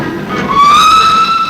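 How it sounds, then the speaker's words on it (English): The 9:17 train to Sheffield pulls out of York station, its drive rising in a clear, climbing whine over a soft rumble, fairly loud and close, with no voices. "there goes the 917 Sheffield"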